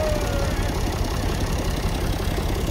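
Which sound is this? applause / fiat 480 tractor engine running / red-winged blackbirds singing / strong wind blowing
fiat 480 tractor engine running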